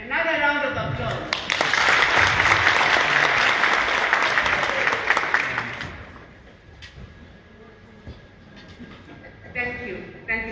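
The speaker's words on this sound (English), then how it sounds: "Another round of applause." Loud applause from an audience at the opening of the Bulawayo Arts Festival fills the first six seconds with dense clapping, then thins to scattered claps while someone speaks into a microphone.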